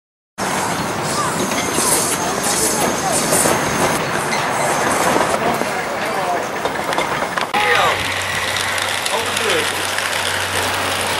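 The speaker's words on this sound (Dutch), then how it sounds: "Kijk eens, daar is de trein." A steam train passes at a heritage railway in Valkenburg, loud and close for most of the stretch, with rumbling wagons and wheel clatter, then squealing wheels and a steady low hum as it moves on; voices are audible beneath.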